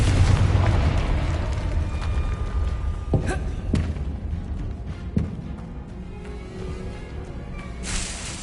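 A Confringo blasting spell explodes in Hogwarts Legacy, several booming blasts and sharp thuds going off over a steady game soundscape, loud and close.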